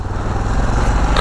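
A Yamaha XT660 single-cylinder motorcycle engine runs loud and close, a steady low throbbing rumble with a slight rise near the end, alone without talk.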